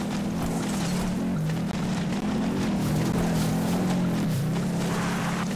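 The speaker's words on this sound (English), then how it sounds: "Oh, wow, there's a car over here." A car engine drones steadily through a Goat Simulator gameplay scene, its low hum constant and fairly loud from start to finish with a faint whooshing layer on top and no voices.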